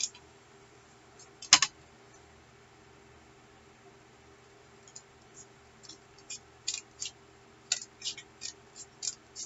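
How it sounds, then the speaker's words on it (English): Scissors snip through paper while trimming a junk journal back cover: a lone sharp cut early on, then a quick run of short, crisp snips close by, fairly quiet against a hushed room with no talking. "I'll flip it over and I'll cut what's left to the back cover."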